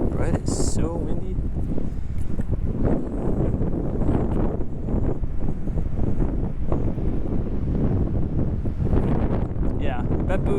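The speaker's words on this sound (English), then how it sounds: "it's so windy" Strong wind buffets the microphone outdoors while walking across Japan from Hamada to Gotsu in Shimane, a constant loud rumbling roar with gusty surges throughout.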